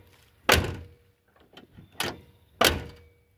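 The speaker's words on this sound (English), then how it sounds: "Honestly, that's not a bad shutting door." The door of a 1986 Ford F-150 pickup with a 302 engine is shut three times: heavy, solid thunks close by, separated by quiet pauses and faint handling sounds.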